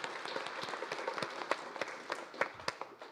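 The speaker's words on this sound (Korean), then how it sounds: "다 같이 박수로서 끝낼까 합니다" Audience clapping at the close of a regional development policy forum, a fairly quiet scattering of individual claps in loose, uneven rhythm across the room rather than a dense roar.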